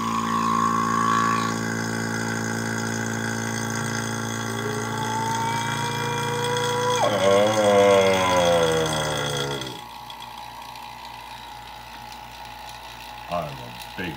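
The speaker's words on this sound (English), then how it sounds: "This is legit just a vacuum. It just sucks air." A vacuum pump drawing air out of a chamber around a balloon runs with a loud, steady mechanical drone, its pitch sliding as pressure drops, then shifts to a lower chattering rhythm after about ten seconds.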